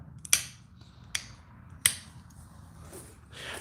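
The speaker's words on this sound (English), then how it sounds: "I'll give you a hand clap." Three sharp, dry claps ring out during a flint-knapping livestream, spaced unevenly over a few seconds, close and fairly loud over a faint room hush.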